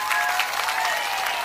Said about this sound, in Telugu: ఈ విషయం చెప్తామని గట్టిగా చప్పట్లు కూడా చెప్పండి